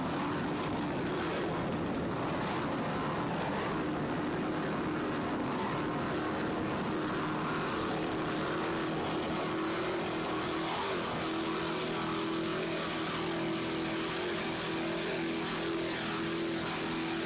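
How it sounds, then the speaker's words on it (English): Twin 800 horsepower Zool racing inboard engines roar on an offshore M-Class racing powerboat at the 1993 Islamorada Budweiser 100 race, a loud, continuous, droning engine rumble with wind and water noise throughout. "Just listen to those two 800 horsepower Zool racing inboards."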